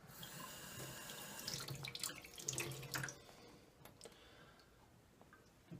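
Water trickles and splashes into a fermentation airlock for hard apple cider, with a running pour, small drips and ticking plastic clicks nearby, swelling mid-way before easing off.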